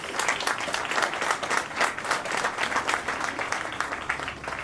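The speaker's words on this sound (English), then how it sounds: "Please give all of them a round of applause" An audience at an outdoor ribbon-cutting ceremony for the Opportunity Corridor road, linking I-490 to University Circle, claps steadily and evenly throughout, a full, sustained round of applause with no talk over it.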